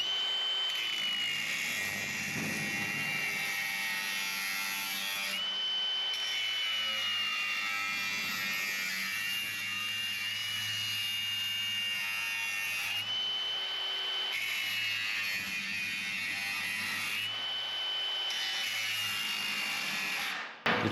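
An air tool removes spot welds from the bottom corner of a 1955 Chevrolet Nomad door, giving a high whining grind in several bursts separated by short pauses, close and steady in level.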